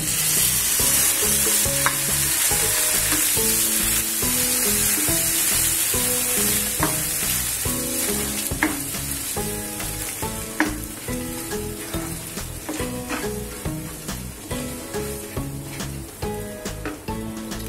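Cooked dal hitting a hot tadka in a pan for dal tadka sets off a loud, continuous sizzle and bubbling that slowly eases off, heard over rhythmic background music.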